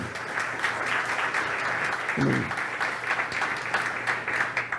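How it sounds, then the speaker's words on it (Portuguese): A church congregation applauds continuously during a worship service, many hands clapping in a dense, steady patter, with a brief low vocal sound in the middle. "Você pode aplaudir o Senhor Jesus?"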